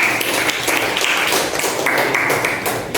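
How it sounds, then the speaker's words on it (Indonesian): Classmates clapping together in a school classroom, a dense, steady patter of many hands that stays loud and even for about three seconds. "oke, tepuk tangan buat temennya"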